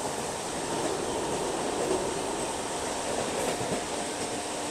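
MEMU train running on the Gwalior-Sumaoli line, a continuous loud rumbling roar of wheels and carriages heard steadily from on board, no voices.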